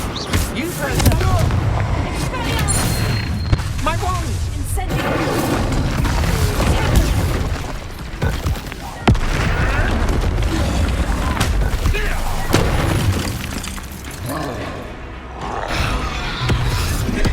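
Dense, loud battle din from the Hogwarts Legacy video game, with repeated booming fire-spell blasts and crashes under continuous music and game voices for the whole stretch.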